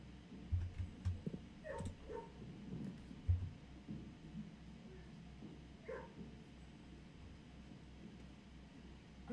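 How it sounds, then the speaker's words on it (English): Muffled dog barks and yips in the video game Blue Prince, a few short bursts early on and one later, over a steady low rhythmic background pulse. "Let's go see the dogs."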